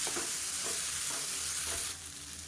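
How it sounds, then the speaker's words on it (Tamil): Tomato sautés with gram flour in a pan, a close steady sizzle with rhythmic stirring scrapes, quieter toward the end. "இப்போ வந்து மீடியம் சைஸாக ஒரு தக்காளி சேர்த்துக்கலாம்"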